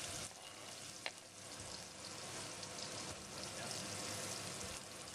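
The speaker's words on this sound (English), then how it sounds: "take 1 onion and 1 green capsicum that have been finely chopped and we're just going to fry them off in the saucepan" Finely chopped onion and green capsicum fry in a saucepan, producing a faint, steady hiss of sizzling with a brief clink near the start, heard from a distance.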